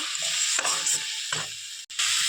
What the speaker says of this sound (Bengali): এইবার আমি সামান্য জল দিয়ে ভালোভাবে মশলাটাকে কষিয়ে নিব